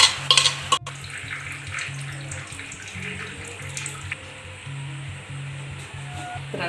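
Jaggery syrup, strained and poured into a kadai, boils steadily with a soft bubbling and hiss, alongside a low intermittent hum and a few sharp kitchen clatters near the start; no voices.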